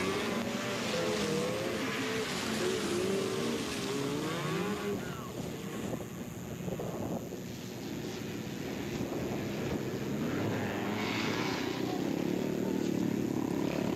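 Race cars hold a steady, loud engine roar as the pack leads through the high-banked turns on lap one, with a wavering higher whine early on over broadband rumble.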